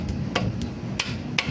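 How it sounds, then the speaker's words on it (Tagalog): An engine with a worn piston pin bushing is turned over by hand, giving sharp metallic knocks at irregular intervals, about five close taps over a low background rumble. "Yun yung narinig natin na tumutunog. So yun, piston ang problema niyan."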